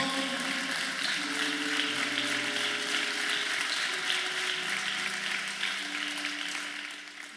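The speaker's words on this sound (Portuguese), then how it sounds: "Pode aplaudir ao Senhor." Congregation clapping in a church during a sermon, a broad steady wash of applause under sustained organ or keyboard tones, fading slightly toward the end.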